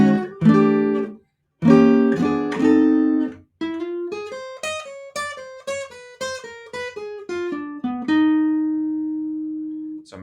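A swing guitar plays the melody of a song alone, starting with a few choppy chords and then running into a flowing single-note line that ends on a sustained note.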